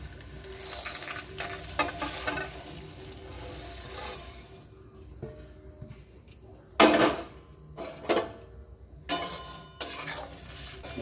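Whole spices dry-roasting in a hot kadai over a gas flame for a homemade masala, stirred in irregular scraping bursts with a soft sizzle and metal clinks, close and fairly loud.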